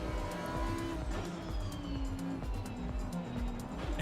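Loud, close race car engine in Assetto Corsa Competizione during a crowded grid race, a steady high revving drone with shifting pitch and brief tire squeal, with no talk.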